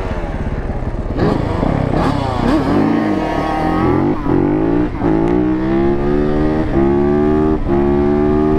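A 450 quad bike engine accelerates hard on a tight road, revving loudly and close with rising, shifting pitch as it pulls through the gears, sustained throughout.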